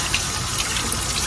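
Warm water runs from a tap into a sink, a steady, even hiss of flowing water heard close up with no speech over it.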